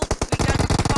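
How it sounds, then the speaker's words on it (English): Rapid automatic gunfire in the PUBG Mobile battle royale game during a competitive scrim match, a loud dense burst of repeated shots in quick rhythm. "From everywhere they're shooting you"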